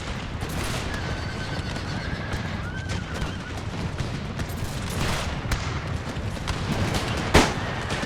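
Cavalry horses neigh and hooves pound in a Total War Thirty Years' War battle, under a steady dense din of gunfire and battle noise, with one sharp loud crack near the end.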